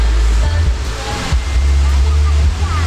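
Encanto Falls, a waterfall in Libmanan, Camarines Sur, roars as a steady, loud wash of falling water with strong low rumble, and faint voices sit underneath.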